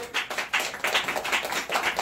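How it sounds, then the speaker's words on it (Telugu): A church congregation claps together at a Sunday service, a brisk, rhythmic run of hand claps that fills the room with no talk over it. "చప్పట్లు కొడదాం దేవునికి"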